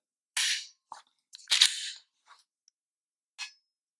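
A Walther PPS M2 pistol's trigger is pulled through its creep until it breaks, giving a few sharp, faint mechanical clicks and snaps separated by short pauses.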